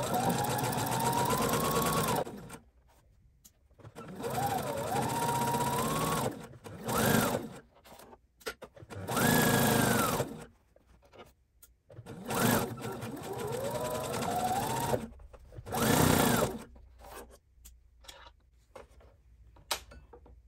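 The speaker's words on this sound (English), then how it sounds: "I'm gonna start with a back stitch or a fixed stitch and sew all the way around." A sewing machine runs a 1/4 inch seam around a lined, box-bottom drawstring bag, starting with a back stitch, in several loud, steady whirring runs broken by short silent stops.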